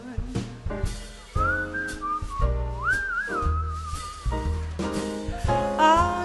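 Whistled melody weaving through a jazz band arrangement, a bright wavering tune rising and gliding for several seconds over steady piano, bass and horns, with singing before and after it.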